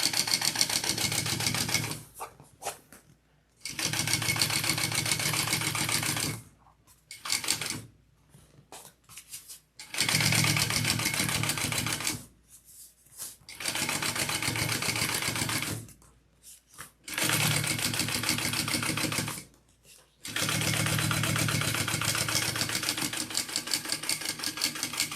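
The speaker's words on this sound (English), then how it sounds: "I'm going to top stitch along that bottom piece through my seam allowance" A sewing machine top stitching through the seam allowance along the bottom of a Minerva tote bag, loud, fast whirring runs up close in several long bursts broken by short pauses.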